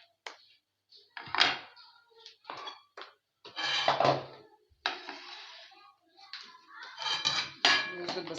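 Food is scooped from pots into containers alongside kebab and kofta, with close clinks of serving spoons on metal and plastic, knocks and thuds in short irregular bursts separated by quiet gaps, with a few faint voices now and then.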